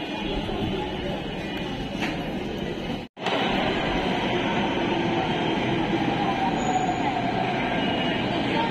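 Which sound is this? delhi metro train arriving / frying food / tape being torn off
delhi metro train arriving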